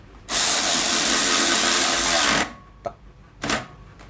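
A Nagawa NRW16 cordless ratchet wrench whirs loudly for about two seconds as it spins a bolt, then stops, followed by a faint click and one more short burst of motor whine, close up.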